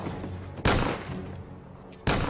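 Gunshots in the action film John Wick 4: two sharp, loud blasts about a second and a half apart, set against a dense background of movie sound with no clear speech.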